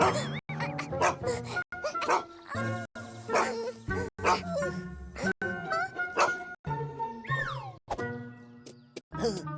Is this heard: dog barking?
yes